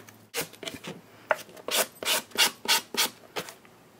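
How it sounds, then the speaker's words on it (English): Sandpaper rubbing back and forth on paper strips glued to a clipboard, a steady rhythm of about a dozen close, scratchy strokes with no talk. "so now we're going to sand."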